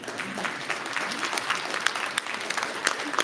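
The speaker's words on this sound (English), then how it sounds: "Let's give them another warm applause" A crowd at a conference board meeting claps steadily and warmly for several seconds, dense applause with a few sharper individual claps standing out.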